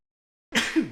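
A single close sneeze bursts out abruptly after half a second of silence, sharp and breathy, with a brief voiced tail.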